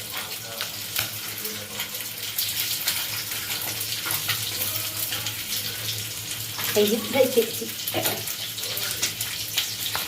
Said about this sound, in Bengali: যে কড়াইতে মাছ ভাজা হচ্ছে